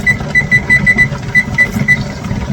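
A kitchen timer beeping a rapid series of short, high, evenly spaced tones beside a steaming pressure canner, loud and close.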